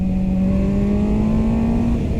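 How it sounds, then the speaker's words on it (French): A QJMOTOR SRK 921 four-cylinder motorcycle engine, with some MV Agusta heritage, growls with a rough, husky tone, its pitch rising slowly under a steady, loud ride with wind noise. "Voilà, un 4 cylindres qui grogne un peu, rugueux, un peu rauque."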